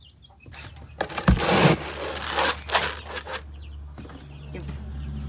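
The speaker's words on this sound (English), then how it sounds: "I feed the big hens now." Big hens cluck and scratch at close range while being fed, with short bursts of clucking, a sharp thump and rustling, and someone talking briefly in the background.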